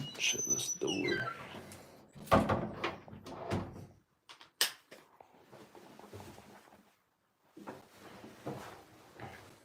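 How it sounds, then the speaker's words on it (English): A door is pushed shut in an old house near the basement, landing as a sharp knock among shuffling footsteps and handling noises, with people talking around it. "Shut this door."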